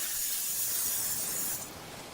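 Cooking spray hisses into a pan on a stove set to medium heat in one steady, close burst lasting about a second and a half, then drops away to a quieter hiss.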